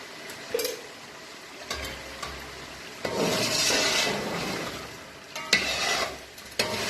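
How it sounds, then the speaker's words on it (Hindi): Chickpeas being roasted in a pan with spices, a soft sizzle broken by occasional scrapes and clinks of stirring, fairly quiet and close. "तो हमने चनों को 2 मिनट के लिए भूनना है।"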